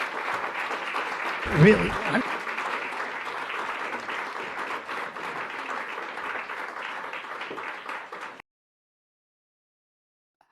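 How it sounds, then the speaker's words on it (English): Audience clapping in a played video clip, sustained steady applause for several seconds with a brief voice speaking over it early on, then cutting off abruptly into silence. "Who is clapping?"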